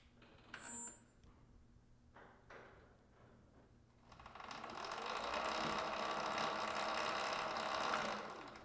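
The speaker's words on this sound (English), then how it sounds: "And now it's gonna prepare calibration and actually start spinning the motor" A Torp TM25 e-bike motor spins up during controller calibration, starting after a few faint clicks into a steady mechanical whir with a ratcheting, geared texture. It holds close and moderately loud for several seconds, with no voices.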